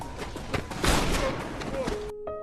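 Chaotic bursts of film gunfire crackle over a dense, noisy background, with repeated sharp impacts that cut off abruptly near the end.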